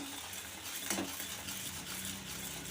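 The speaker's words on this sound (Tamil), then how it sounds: "இந்த மாதிரி சேர்த்த உடனே நல்லா கிளற ஆரம்பிச்சிருங்க" A spoon stirs rice with rock sugar in a pan for a sweet kalkandu rice dish, making soft continuous scraping and light sizzling, steady and close, with one louder clink near the start and no talking.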